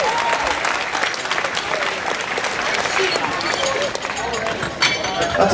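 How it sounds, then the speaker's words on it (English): A crowd at a powerlifting deadlift meet bursts into loud, sustained applause and cheering for a lifter, clapping dense and continuous throughout with a rising swell near the end. "So close, give her a round of applause."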